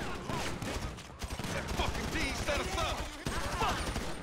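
AK rifle fire in GTA 5 rattles in rapid, dense bursts for several seconds, loud and close, while an excited voice talks over it.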